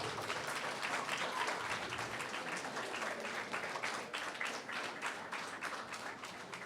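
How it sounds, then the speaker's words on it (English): Fifth graders at an elementary school role model breakfast applaud from their seats, a steady, dense round of clapping that holds at even strength for several seconds with no talk over it. "I would like our 5th graders to give them a round of applause."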